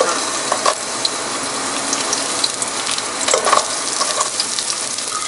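Onions frying in oil with whole spices such as star anise and cinnamon, a steady close sizzle with occasional stirring scrapes and crackles, no talking.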